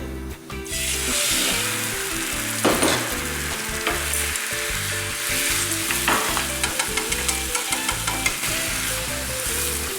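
Close, loud, steady sizzling of a dashi-and-egg mixture frying in a hot pan for a Japanese rolled omelette, with scraping and stirring scrapes from a utensil throughout, no voices.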